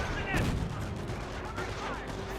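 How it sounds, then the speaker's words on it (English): Sniper rifle shots and battle noise from Company of Heroes, with a sharp crack near the start and another later over a dense rumble of distant combat and some speech. "Good counter snipe there by the Wehrmacht sniper"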